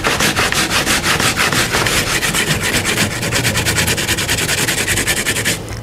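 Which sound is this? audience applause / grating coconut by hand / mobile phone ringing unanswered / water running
grating coconut by hand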